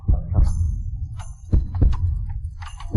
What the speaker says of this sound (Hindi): किसी के दिल की धड़कन की आवाज